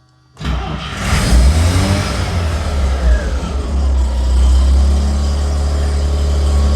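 A vehicle engine cranks and catches after an ignition switch replacement, with the choke on and the transmission out of gear, then settles into a loud, steady running rumble close by, revving slightly, with no talk over it.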